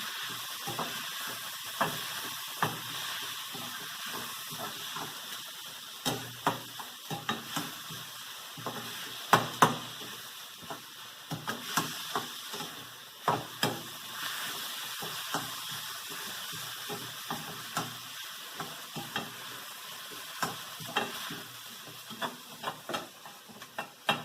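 Chickpea masala for chana masala frying in a pan, with a steady soft sizzle broken by frequent sharp scrapes and clicks of a spoon stirring, fairly close and with no voices.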